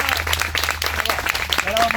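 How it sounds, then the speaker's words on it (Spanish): A crowd applauds with dense, continuous clapping, fairly loud and close, lasting the whole short stretch. "les pediré el último aplauso fuerte"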